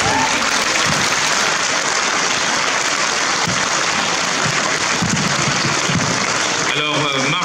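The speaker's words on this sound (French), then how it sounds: "on peut applaudir nos jeunes championnes." Audience at a French youth chess championship prize ceremony applauding steadily, a dense, continuous wash of clapping hands that carries on loudly before a voice speaks at the very end.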